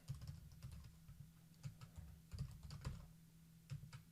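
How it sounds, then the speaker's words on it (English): Bursts of quick keyboard typing, close and quiet, with short pauses between runs of keystrokes over a low steady hum. "I did a botched job of typing that"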